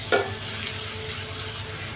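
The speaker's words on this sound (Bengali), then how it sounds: "পেঁয়াজটা ভালো করে ভেজে নিব।" Chopped onions sizzle in hot oil in a wok, a steady, close frying hiss with a brief louder crackle as they hit the oil at the start.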